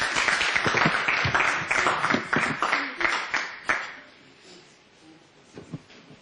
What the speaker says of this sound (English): applaud Adeola Akeju